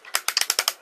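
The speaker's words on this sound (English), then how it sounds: "That's the sound of a healthy Transformer toy making those noises." A Transformers Classics/Henkei Megatron toy's ratcheted joints snap through a fast run of about seven crisp, evenly spaced clicks, close up and loud, with no voices.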